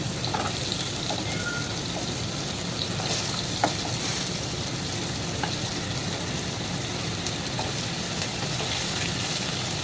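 Potatoes coated in turmeric fry in a pan with a steady, close sizzle that holds evenly throughout, broken only by a few faint clinks.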